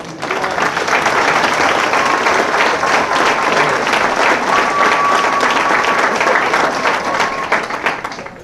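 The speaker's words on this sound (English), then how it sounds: "please join me in a round of applause for our Marine recruiters" A crowd applauds Marine recruiters steadily, dense clapping sustained for several seconds before tapering off at the end.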